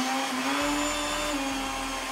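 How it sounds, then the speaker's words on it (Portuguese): A kitchen blender whirs steadily while mixing a sausage pie batter, its motor droning loud and close with a slight pitch shift partway through, with no talking. "Se você ligar o liquidificador"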